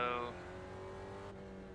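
Race car engine from an SRF session at Summit Point in a racing simulation, a steady tonal drone held close throughout, with a brief brighter burst at the start that settles into a sustained even hum.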